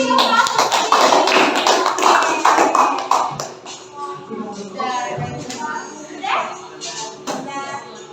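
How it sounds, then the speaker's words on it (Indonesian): A classroom of children claps for prize winners, a burst of dense applause over the first few seconds that fades as a teacher's voice and children's chatter take over. "Kita kasih tepuk tangan."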